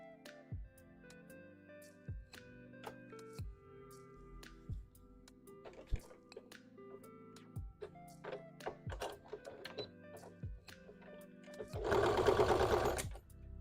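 A sewing machine stitches a Mothman hat, running in short bursts with sharp mechanical clicks and thunks between them, then a louder, denser whir of steady stitching near the end, close and alone.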